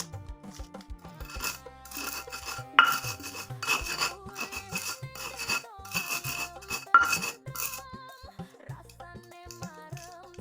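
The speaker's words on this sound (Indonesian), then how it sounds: "Untuk bumbunya kita ulek saja." A stone mortar and pestle grinds seasoning for cassava crackers, making rhythmic scraping and rubbing strokes with clattering knocks, sounding close and fairly loud, with no talking.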